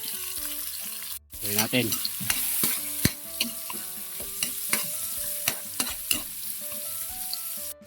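Garlic sautés in hot oil, a lively close sizzle punctuated by repeated spatula knocks and scrapes against the pan, with a brief spoken phrase partway through.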